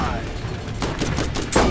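Rapid gunshots in the shooter game Borderlands, sounding as a quick run of cracks that builds in the second half and peaks near the end, with speech present in the mix.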